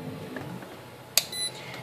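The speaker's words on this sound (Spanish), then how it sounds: "nos va a dar un pitido de continuidad en masa" A multimeter set to continuity gives a short, high electronic beep while probing a vehicle's ground wire, preceded by a sharp click as the probe makes contact.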